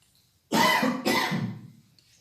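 Two harsh coughs in quick succession from one person close by, the second trailing off into a raspy exhale.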